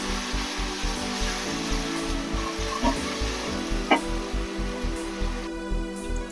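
Ginger garlic paste frying with onions in a pan for tomato rice, a steady close crackling sizzle with occasional stirring scrapes and a couple of sharp pops.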